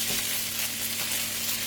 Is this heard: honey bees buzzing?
no